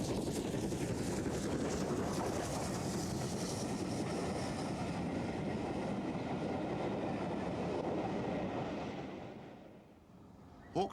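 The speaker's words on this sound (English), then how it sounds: "6996 Burton Agnes Hall, of the later series of Hawksworth engines, being seen here on the Welsh Marches." GWR Hall class steam locomotive 6996 Burton Agnes Hall, a later Hawksworth engine, running on the Welsh Marches: a steady, broad roar of the engine and train holds for about nine seconds, then fades away.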